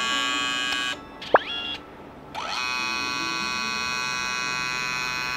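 A Kodak Mini 2 Retro P210R photo printer running, with a steady mechanical hum and whine carrying on for several seconds, briefly dipping and returning, with a short chirp and rising whirs in between.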